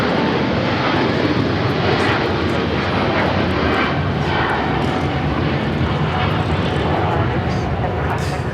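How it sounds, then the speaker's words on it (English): A China Eastern Boeing 777-300ER departing Los Angeles airport gives a loud, sustained jet engine roar that stays heavy and close throughout, with people talking underneath. "This is China Eastern Airlines 586 taking off to Shanghai on the 777-300ER"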